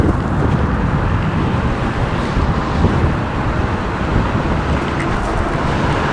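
A Varla Eagle One Pro dual-motor electric scooter makes a top speed run with the wind in pedal assist 3, heard as a steady loud roar of wind and road noise that blankets everything with no pauses.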